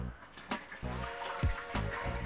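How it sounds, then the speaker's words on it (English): Water is poured into the tank of a humidifier being cleaned, giving a close, steady splashing gurgle with a few louder sloshes and bursts of bubbling. "Pour the water in here."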